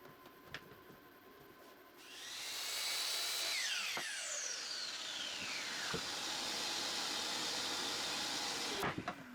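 A miter saw cuts wooden bench legs to length against a stop block: the motor spins up with a rising whine, the blade bites through the board in a loud sustained cut, then winds down, ending with a sharp knock.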